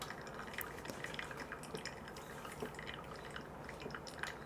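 Hot water poured onto coarsely ground coffee during pour-over brewing: a faint, steady trickle and patter running continuously throughout, close by and without talk.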